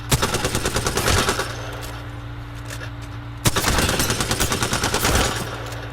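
Automatic gunfire in the shooter video game Apex Legends, two rapid bursts of loud, close shots with a short pause between them.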